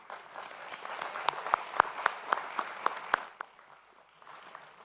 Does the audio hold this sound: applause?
yes